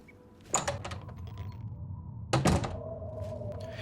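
A mine door in the video game Oblivion opens with two heavy wooden thunks and creaks about two seconds apart, fairly close over a low ambient hum.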